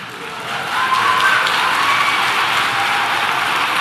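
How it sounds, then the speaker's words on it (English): Audience applause and some cheering in a hall during a debate, a broad, steady wash of clapping that swells after the first half second and holds at a fairly loud level. "You're clapping for that?"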